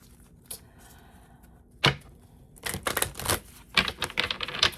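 A burst of quick, crisp riffling clicks from shuffled cards, followed by several more rapid rustling bursts close to the microphone.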